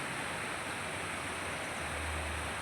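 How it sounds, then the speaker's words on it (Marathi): Water rushes and gurgles at Anandwadi waterfall, a continuous broadband hiss, steady and fairly distant, with no voices. "खळखळणारा पाण्याचा आवाज कानाला सुखावणारा आहे"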